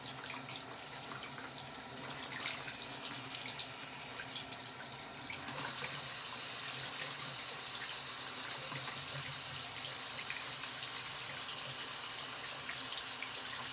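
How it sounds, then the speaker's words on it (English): Tap water runs steadily into a sink, a constant close splashing hiss that grows louder and fuller partway through as the flow increases, with no talking. "Trying to get the water to warm it up."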